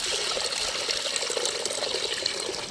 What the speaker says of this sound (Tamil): காய்கறி வேக வைக்க தண்ணி சேர்த்துக்கிறேன்.